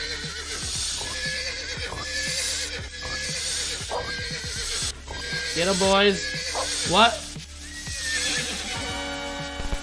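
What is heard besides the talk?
horses neighing and hooves in an animal fight video game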